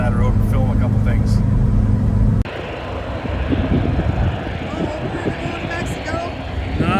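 A low roar of an airplane passing overhead, a broad rumbling drone that persists steadily after an abrupt cut, fairly loud and close.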